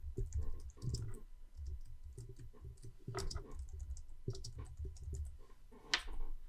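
Keys on a computer keyboard clack in short, irregular bursts of close typing and shortcut presses, crisp and alone with no talk over them.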